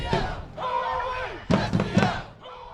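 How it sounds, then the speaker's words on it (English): Soccer supporters' group massed behind a goal, singing, chanting and cheering in a loud, continuous crowd roar with rhythmic shouted surges. "singing, chanting, and cheering non-stop for the entire match"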